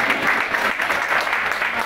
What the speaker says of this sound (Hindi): तो ताली बजा के स्वागत कीजिए